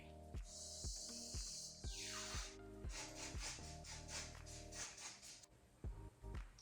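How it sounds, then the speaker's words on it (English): Aerosol hairspray misted onto curly hair gives a sustained hiss of about two seconds near the start, heard over rhythmic music with steady percussive beats. "So let me just go ahead and hairspray."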